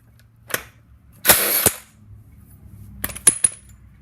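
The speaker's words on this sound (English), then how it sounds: "So let's pull off axle bolt." A 32mm axle bolt is worked out of a Yamaha R1M rear wheel. A sharp metallic click, then a short rasping scrape and a cluster of quick clanks and taps, separated by near-silent gaps.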